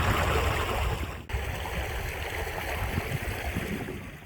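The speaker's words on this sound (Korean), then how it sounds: "내연산은 12폭포 계곡으로 유명한데요" Waterfalls in the Naeyeonsan valley near Pohang, a steady broadband rush of falling water, close and constant with a brief dip partway through, no voices.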